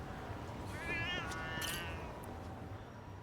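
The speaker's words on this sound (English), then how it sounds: "I'm gonna go hang out with the cats" Cats meow in a Chinatown street in the video game Lost Judgment, two or three short rising mews close by over a soft, busy ambient background.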